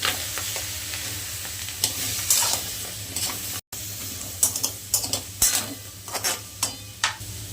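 Sweet potato pieces frying in ghee in a wok, with a steady crackling sizzle and repeated scraping stirs of a utensil against the pan, close up and without speech.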